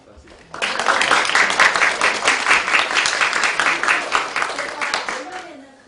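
An audience in a university lecture hall applauds at the end of a life-science class, a sudden burst of many hands clapping that holds steady for several seconds before fading out.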